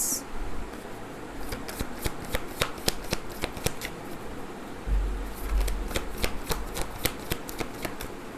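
Tarot cards being shuffled by hand, a rapid run of crisp riffling flicks that continues steadily throughout, close and fairly loud with no talking.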